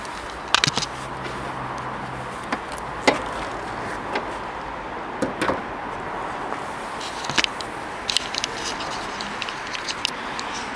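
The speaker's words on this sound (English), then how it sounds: "I'm just going to put the camera down while I open the bonnet for you." Bonnet of a 2009 Ford Fiesta 1.25 Zetec five-door being opened by hand, with scattered clicks, knocks and a few sharp clunks of the catch and metal panel over low background rumble, no talking.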